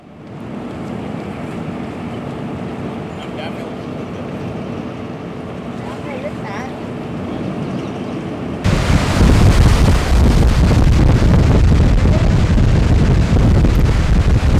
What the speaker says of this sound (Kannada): ಡ್ಯಾಮ್ ಭರ್ತಿಯಾದಂಥ ಪರಿಣಾಮ ನೀರನ್ನು ಹೊರಬಿಡಲಾಗ್ತಾ ಇದೆ